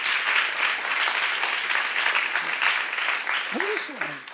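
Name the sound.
audience applause in church youth service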